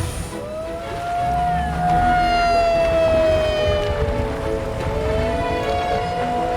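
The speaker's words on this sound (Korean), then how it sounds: "사이렌 소리를 신호로 하도리 해녀들이 일제히 바다로 나아갑니다." A village siren on the coast at Hado, Jeju, signalling haenyeo women divers to enter the sea, rises into a long sustained wail that holds steady at a distance over outdoor ambience.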